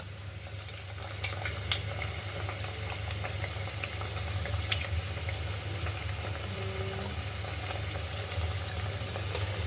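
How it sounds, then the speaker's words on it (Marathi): Matar karanji pastries dropped into hot oil on medium heat, a steady soft sizzle and bubbling that holds evenly close by throughout, with no voices. "चला आपण करंजा तेलात सोडूया"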